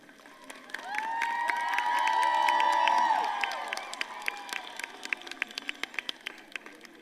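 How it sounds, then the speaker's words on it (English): A college annual thanksgiving day audience breaks into applause and cheering that swells to a loud peak, then fades into scattered, thinning claps, with shouts and voices mixed into the crowd. "Now I request the audience to give them a thunderous applause."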